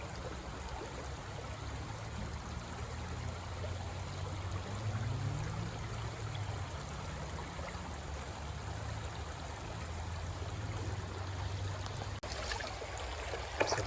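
A creek flows steadily at a gold-panning spot on a hot summer day, giving a constant, fairly faint wash of running water with a low rumble and no voices.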